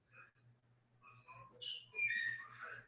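A pet parrot whistles indoors, with short faint tonal whistles and chirps that grow into brighter, louder phrases near the end, over a steady low hum in a quiet room.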